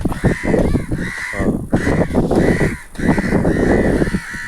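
Several crows caw loudly and harshly nearby around a crow that fell after an electric shock, their calls overlapping in repeated rough bursts.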